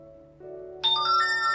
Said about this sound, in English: And phone's going mad.